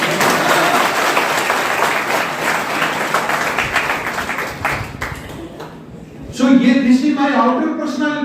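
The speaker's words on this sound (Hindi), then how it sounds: "मेरे नाम पर ताली बजाओ।" An audience at a motivational speech applauding loudly in a dense, sustained burst of clapping that fades out, after which a voice speaks clearly into a microphone.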